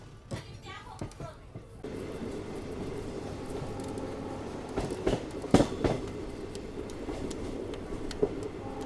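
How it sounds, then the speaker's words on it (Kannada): A Harihar–Hospet passenger train running on a scenic Karnataka route rumbles steadily with rail noise and a few sharp clanks and knocks, heard from on board, with faint voices at the start. "ಟ್ರೈನ್ ಎಲ್ರಿ ಪಾತಾಳದಾಗ ಹೊಂಟ"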